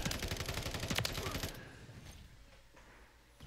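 Rapid burst of FSS Hurricane submachine gun fire in a video game, dense and loud for about a second and a half before cutting off into quieter game ambience.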